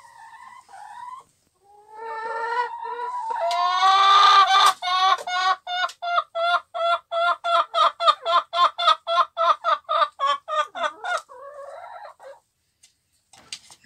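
A hen clucks close up and alone, starting with a few calls that rise into a long run of rapid, evenly spaced loud clucks before tapering off.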